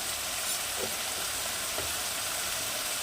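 Spices with turmeric, salt and chili powder frying in hot oil in a pan, an even, dense sizzle heard up close with a couple of faint stirring knocks.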